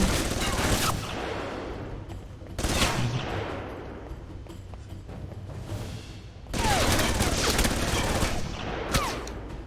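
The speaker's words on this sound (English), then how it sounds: "somebody's shooting at me" Gunfire erupts in the Alpha Protocol video game, several sharp bursts of shots and rattling volleys come in clusters separated by quieter stretches, with faint game sounds between.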